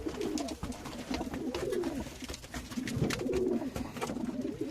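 Pigeons coo repeatedly in a loft, soft rolling throaty calls overlapping one another close by, with faint rustling and shuffling in the background.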